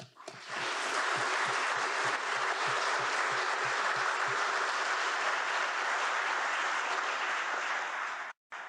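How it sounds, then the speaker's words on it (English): A round of applause for the President's E and E-Star export award winners at a Commerce Department ceremony, a full steady crowd clapping that holds loud and even for about eight seconds before cutting off. "Please let us begin with a worthy round of applause for the President's E and E-Star winners."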